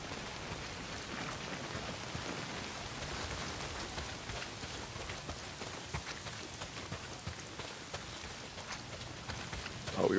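Steady heavy rain pours down without pause in the Days Gone video game, a dense even hiss of drops beating on surfaces that fills the whole stretch, with a brief louder swell at the very end.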